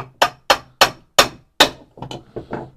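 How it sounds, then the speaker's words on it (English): A brass hammer taps apart the crankcase of a Stihl MS 660 chainsaw: five sharp, evenly spaced metallic knocks, then three quicker, softer taps, close and loud with no talking. "It's either a case splitter or a brass hammer. So if you've got the hammer, we literally just gently tap,"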